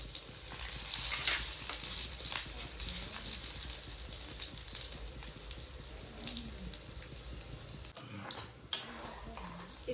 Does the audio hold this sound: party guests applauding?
no